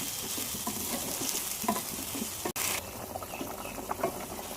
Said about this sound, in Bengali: আলুর সাথে পেঁয়াজটাও ভেজে নিচ্ছি।